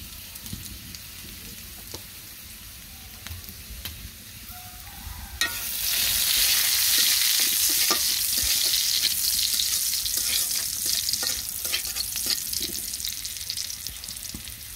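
Cumin seeds are dropped into hot oil as a tempering for masoor dal, and a sudden loud sizzle bursts up, then keeps frying steadily and close with light stirring clatter.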